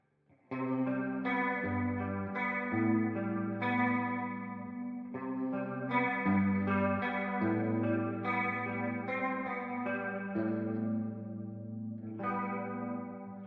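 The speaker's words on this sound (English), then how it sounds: "One of my favorite is this super springy reverb." An electric guitar plays chords and melodic lines drenched in a bouncy, splashy spring reverb, sounding wide and echoing, alone with no voices.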